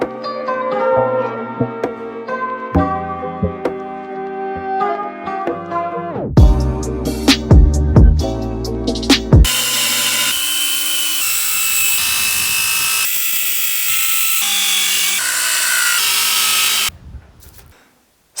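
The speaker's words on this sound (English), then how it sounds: "Cutting a ton of plywood." Plywood being cut with a power saw, heard after music: sharp intermittent cuts, then a loud continuous saw whine lasting several seconds before it stops abruptly.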